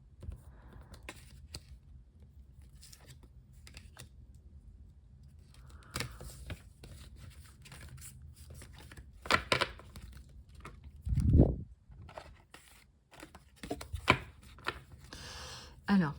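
Tarot cards being shuffled and handled on a table, soft papery riffles and taps scattered through the stretch, fairly quiet, with someone speaking French intermittently.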